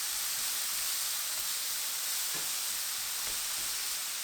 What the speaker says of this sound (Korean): 목이버섯 넣고 볶아주세요.